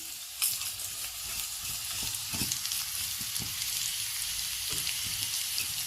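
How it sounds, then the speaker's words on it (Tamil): Bitter gourd sautés in a pan with salt and turmeric, giving a steady crackling sizzle with occasional louder stirring scrapes and pops throughout. "தேவையான உப்பு மஞ்சத்தூள் எல்லாம் போட்டு ஒரு வதக்கிடலாம்."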